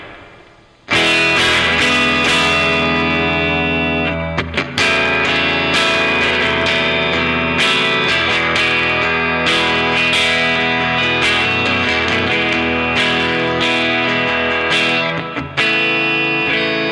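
Gibson Les Paul Standard '60s electric guitar on the rhythm pickup, strummed in steady rhythm with a fairly clean, bright tone and a touch of echo, loud and close, playing alone.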